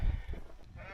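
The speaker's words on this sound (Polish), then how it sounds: "Są i owieczki," Sheep bleating outdoors on a hillside on Madeira, with a low, drawn-out wavering call from a nearby animal over soft background rumble; goats are present too.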